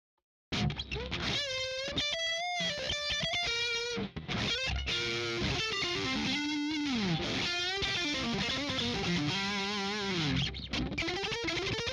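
An electric guitar with a Nova pickup in the neck position plays a flowing melodic line, heavily distorted and effected with chorus-like shimmer, continuous and up close after a brief silent start.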